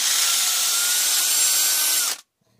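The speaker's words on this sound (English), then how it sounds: "I'm just going to use my hand drill for that" A hand drill enlarging a hole to 3.5mm with a bit of steel backing the hole, a steady loud whirring grind for about two seconds that stops abruptly into silence.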